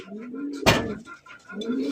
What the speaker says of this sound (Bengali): সুপার কোয়ালিটি রেসার কবুতর